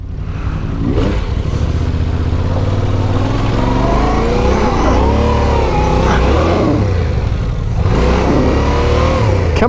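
Yamaha Tenere 700 motorcycle revving hard as its rear tire churns through mud, with rising and falling engine surges and spinning bursts, loud and close.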